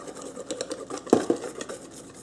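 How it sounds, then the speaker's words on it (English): A whisk clatters against a bowl while beating blackberry pancake batter, giving a quick run of rhythmic scraping taps with one sharper knock midway. "Okay, just give it a nice whisk."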